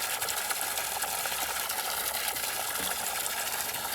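Water pours steadily into a garden pond as it is filled, a constant bright rushing hiss with a low gurgle underneath, close and unbroken throughout.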